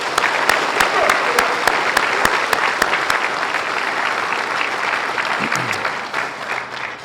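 Sustained applause from a ceremony crowd honoring a retired Marine lieutenant colonel inductee, dense steady clapping with a few sharp nearby claps, fading near the end.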